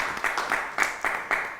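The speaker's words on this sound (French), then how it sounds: "On l'acclame quand même" An audience applauds in rhythmic bursts of clapping, moderately close and steady with a few louder swells, no voices standing out.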